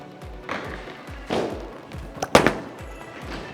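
A bowling ball rumbles down the lane in a string of low, rhythmic thuds, then crashes into the pins with one sharp, loud burst of clatter before the noise fades back to rolling rumble.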